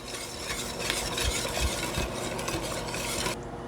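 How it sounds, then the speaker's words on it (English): Whisk stirring cheese into a hot sauce in a pan, a continuous close scraping and swishing with soft metallic clicks against the pan, steady throughout and cut off just before the end. "Drop in your cheese and start whisking."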